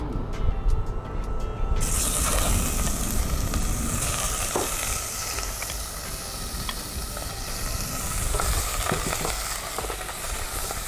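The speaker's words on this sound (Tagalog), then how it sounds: "Stir fry muna natin." Pork for humba stir-frying in a hot pan, a loud steady sizzle with scraping stirs running throughout, the hiss rising sharply after the first two seconds.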